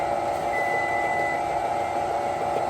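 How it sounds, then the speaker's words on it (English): A kitchen timer beeping with a steady electronic tone during pound cake baking, heard alone over a constant steady hum of background noise. "I'm going to turn my timer off"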